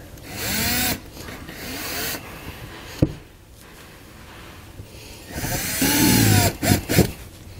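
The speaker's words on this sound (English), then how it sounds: "We're going to take a 3/16 drill bit, we're going to drill out the center." A power drill with a 3/16 bit whirs in two short bursts while drilling out a plastic rivet center on a 2019 Jeep Grand Cherokee fascia, with a sharp click and quiet pause between them.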